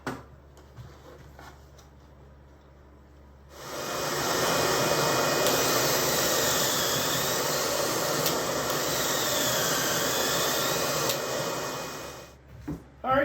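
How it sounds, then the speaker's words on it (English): Drill boring pocket holes through a pocket hole jig: one loud, sustained whirring run of about eight seconds starts after a quiet stretch and stops abruptly near the end. "so I've got all the holes drilled"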